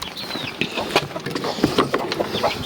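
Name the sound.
chicks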